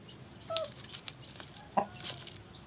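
A few short clucks from chickens kept on a rooftop come through, sparse and fairly soft, over a quiet background with faint rustling.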